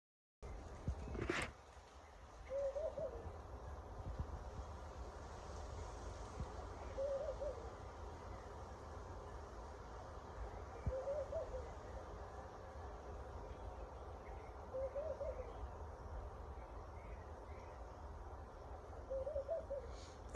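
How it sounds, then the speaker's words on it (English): An owl hooting at night, repeating a low, soft call roughly every four seconds, distant and faint over a steady low rumble, with one sharp knock near the start. "Okay, you hear this owl?"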